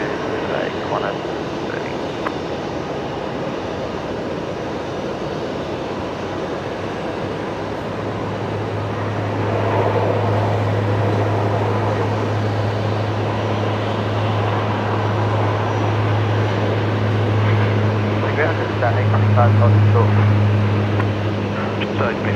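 A Dash 8 turboprop taxis at Brisbane Airport at night, its low, droning propeller hum rising in the second half over a steady background rumble, with people talking quietly throughout.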